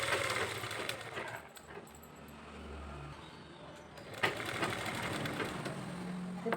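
A sewing machine runs a line of stitching on a blouse lining in short bursts, close and fairly quiet, with soft handling noises between runs.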